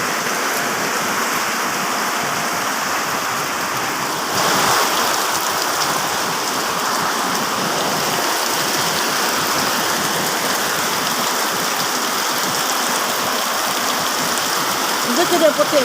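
Heavy storm rain pours down in a steady, loud hiss with dense drumming on surfaces, continuous throughout, with a brief swell of louder downpour midway.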